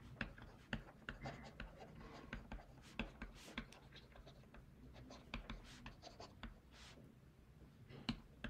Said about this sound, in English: So we need to first start off by writing out our reaction.